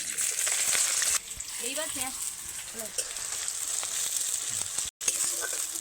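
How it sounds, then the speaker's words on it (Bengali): Chopped onion frying in hot oil with whole garam masala and split cardamom pods, giving a loud, steady sizzling hiss throughout, with a brief spoken word partway in and a short gap near the end. "পেঁয়াজটাকে খুব সুন্দর একদম ব্রাউন কালার করে ভেজে নিতে হবে।"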